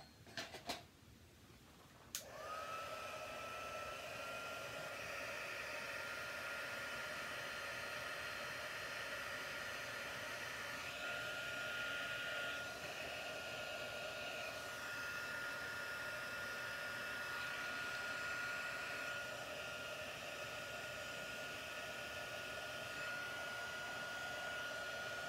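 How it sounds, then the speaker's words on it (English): An electric heat tool runs steadily for over twenty seconds, melting gold embossing powder on a papercraft circles layout, a loud continuous airy blowing hum with a faint start-up click at the beginning. "whatever's there stays there after you melt it with the heat tool"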